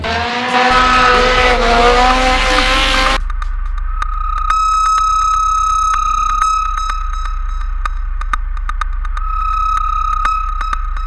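A drift car slides with loud, wavering tire squeal and engine roar for a few seconds, then cuts away to sparse electronic beeps and tones over a low steady hum.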